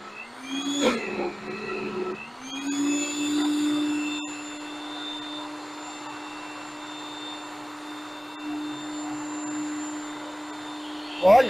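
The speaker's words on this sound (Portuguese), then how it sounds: "não quer desligar esse liquidificador" Kitchen blender running while blending a garlic sauce, a steady whirring motor hum with a strong tonal whine that starts, rises briefly and then holds even, close and loud, with no talk over it.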